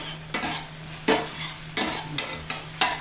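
Green chilies sizzle and fry in a pan, a close, steady hiss broken by several sharp scraping stirs at a roughly regular pace, with no voices.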